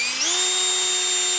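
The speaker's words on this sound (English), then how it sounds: "And I got to drill some more holes" A power drill fitted with a dull bit spins up and then holds a steady, loud, high whine at close range, with no talking over it.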